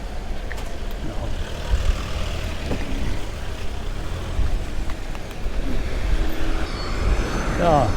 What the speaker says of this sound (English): So, this is Lille train station.